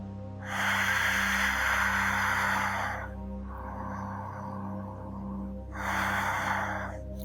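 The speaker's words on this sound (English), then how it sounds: "Ujjay breathing." Ujjayi yoga breathing in a class for ankle and foot care: long, hissing, ocean-like breaths alternate slow inhales and exhales, steady and close over a low background hum.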